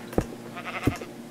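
Two short sheep bleats from Minecraft, spaced under a second apart, each clear and fairly close over a faint steady background hum.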